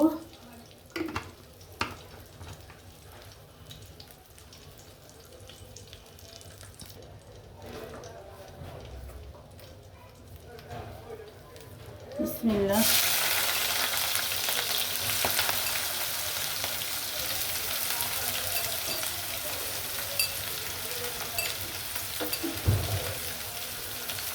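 Onions fry in white oil. After a quiet stretch with a voice talking, a loud steady sizzle erupts halfway through and continues to the end.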